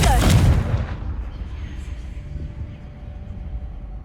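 A Confringo fire spell cast in the video game Hogwarts Legacy, a single loud fiery blast at the start that rumbles and fades away into a low lingering tail.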